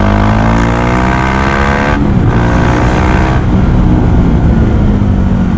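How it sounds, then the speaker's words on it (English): A KTM 390 Duke with no exhaust fitted at wide-open throttle gives a loud, raw, close engine roar that climbs in pitch through the gears, with a brief shift break midway and no talking. "Let's say if I wide open throttle,"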